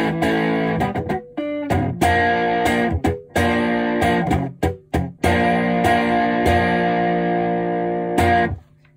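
Stratocaster played through the rear pickup into an Otodel Ghost Fuzz pedal, giving a loud, thick fuzzed electric guitar with sustained chords broken by brief stops and rhythmic choppy strums, then ringing out.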